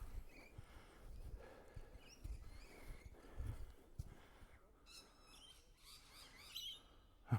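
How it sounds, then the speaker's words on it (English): Birds chirp in the trees of Plenty Gorge Parklands, heard along a steep walking trail; several faint, scattered tweets rise over quiet outdoor ambience, with a few soft thumps of footsteps. "Birds are chirping."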